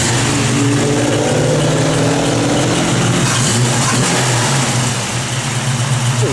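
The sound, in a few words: 1969 AMC AMX engine running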